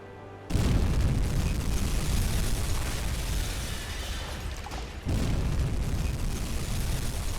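Two torpedo hits explode against a ship in the submarine game Uboat, a sudden deep roaring blast that rumbles on heavily and then a second surge of explosive rumble, loud and sustained, with no talking.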